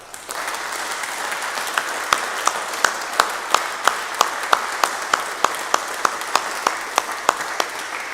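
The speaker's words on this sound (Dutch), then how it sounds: "Een luid applaus." A room full of people applauding a choir after a church service: a dense wash of clapping with a few sharper, evenly spaced claps standing out from the crowd.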